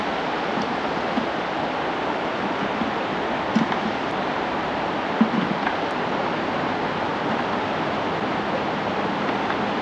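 A strong river current rushes steadily around a post where fish gather, giving a dense, continuous roar of flowing water that stays loud and unbroken throughout, with no talking.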